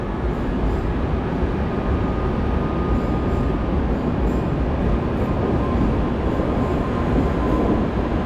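A passenger train with Czech wagons rolls through Warszawa Centralna station, making a steady, loud rumble of wheels and cars on the rails with no talk.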